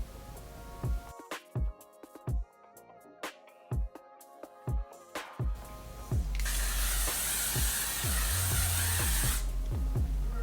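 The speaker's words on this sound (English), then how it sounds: "It might not look like I'm spraying my face, but I be spraying my face." Close, sharp hiss of a face mist spray lasting several seconds, following a series of clicks and taps, with no talking.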